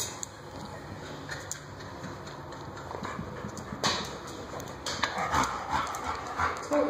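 Dogs yelp and whimper excitedly amid scuffling and clattering movement, with several sharp bursts standing out over a busy background.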